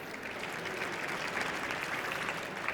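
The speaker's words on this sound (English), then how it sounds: "I think that's worth a round of applause" Conference audience applauding, a steady wash of many hands clapping at moderate level, dense and even with no gaps, no voices rising above it.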